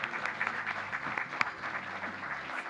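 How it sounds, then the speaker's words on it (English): Applause at LaveCon 2017 convention, a moderate crowd clapping with irregular individual claps standing out, fairly steady and somewhat distant, with faint murmur beneath. "Round of applause, Zach Antonacci,"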